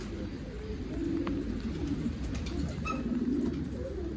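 Pigeons coo close by in a loft, low soft throaty calls repeating a few times over a steady background murmur.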